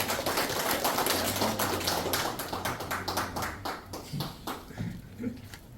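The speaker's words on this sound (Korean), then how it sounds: "힘찬 박수로 모시겠습니다" Applause welcomes a speaker to the podium at a Korean veterans' policy rally: many hands clap in a dense, steady patter that thins and fades toward the end.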